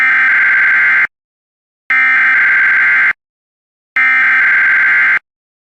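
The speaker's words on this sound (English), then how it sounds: "The alarm tone just transmitted should have been heard on any operating receiver." Three loud, steady NOAA weather radio electronic alarm tones, each about a second long, separated by short silences, with a harsh buzzing quality.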